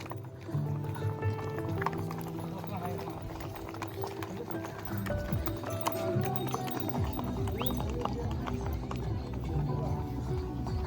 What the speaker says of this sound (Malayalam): ഇപ്പോഴും കുതിരകളൊക്കെ പോകുന്നുണ്ട് കേട്ടോ